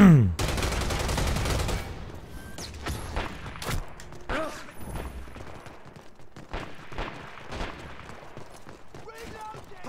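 Gunfire from a sniper in the online shooter Dirty Bomb, a burst of loud rapid shots at the start, then scattered sharp cracks and thuds through game noise, with a voice talking now and then.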